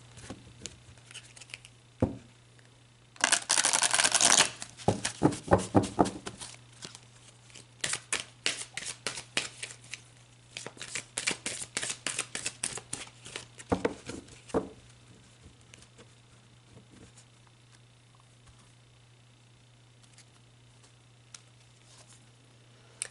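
Oracle cards being shuffled by hand: a loud riffling burst early on, then repeated rapid flicking and slapping bursts that fade into scattered soft taps, close and quiet overall with a low steady hum.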